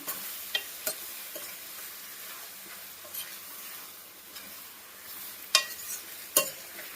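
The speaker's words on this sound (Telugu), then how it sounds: "అల్లం పేస్ట్ మంచిగా ఆయిల్లో ఫ్రై అయింది కదండి" Ginger paste frying in hot oil gives a steady soft sizzle, with occasional sharp clinks and scrapes of a spoon stirring in the pan.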